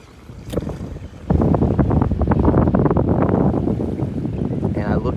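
Wind gusting outdoors near the water, a steady broadband rush with microphone buffeting that swells strongly after the first second and holds loud to the end.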